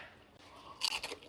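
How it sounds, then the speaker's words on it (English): A crunchy bite into a fried onion ring, heard as a brief crisp crunch close to the mic after a quiet start, followed by a couple of softer chewing crackles. "You gotta let them hear the crunch of the onion ring."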